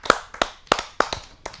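Five sharp bursts of clapping from an audience at a Hindi poetry recital, irregular and crisp, each one striking then fading before the next, with no voices over them.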